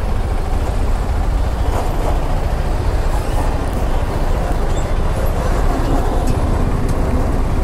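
Loud, dense, continuous vehicle rumble from a heavy traffic jam on a road under construction, engines idling and droning close by without letup, no clear horn.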